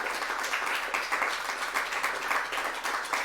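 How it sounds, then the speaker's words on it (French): Dense, continuous applause from an audience at the official launch of a mobility awards competition, steady and fairly loud throughout with no voices standing out. "Applaudissez-vous, applaudissez les nouveaux venus"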